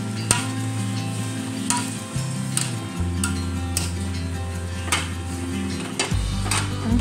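Chili is added to a pan for a dish of coconut palm heart with shrimp and stirred as it cooks, with a steady sizzle and intermittent clinks of a utensil against the pan close by.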